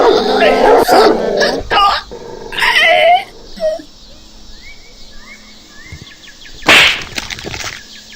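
A dog barks and yelps loudly up close in the video game Whack Your Neighbour, amid game sound effects and whooshes, followed by quieter moments and a sharp burst near the end.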